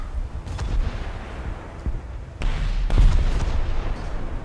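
Naval fire from an 8 centimeter gun in a boat battle game, heard as repeated booming shots and impacts over a constant rumbling background, with a sharper blast near the middle and several more closely spaced.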